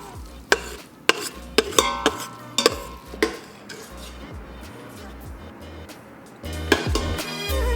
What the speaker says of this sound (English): Now we're going to fluff this up with this metal spoon.